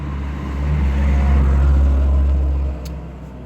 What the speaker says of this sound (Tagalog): Ang ingay ng mga sasakyan guys.